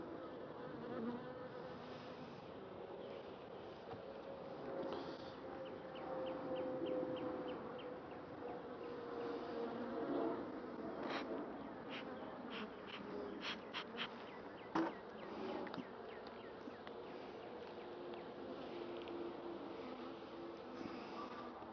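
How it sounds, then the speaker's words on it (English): Honey bees fly around an opened beehive, their steady buzzing hum close and continuous, with individual bees zipping past the microphone now and then. Faint birdsong sits in the background. "these bees' temperament is really good right now. They're flying around"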